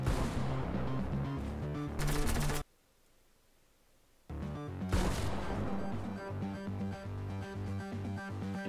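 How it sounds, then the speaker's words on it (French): A grenade goes off in a Fortnite match and kills two players who were fighting. Loud, dense gunfire and crashing blasts fill the scene, break off into a short near-silence, then return with a heavy impact and more sustained battle noise. "Les deux joueurs qui étaient en train de se fighter sont morts à cause d'une grenade."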